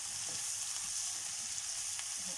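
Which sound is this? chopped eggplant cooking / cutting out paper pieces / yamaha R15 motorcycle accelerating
chopped eggplant cooking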